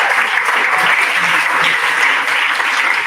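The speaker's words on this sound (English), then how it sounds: "So give it a round of applause to all the performers you got tonight." A comedy night audience claps loudly and continuously for the evening's stand-up performers, a thick, even wash of applause close at hand.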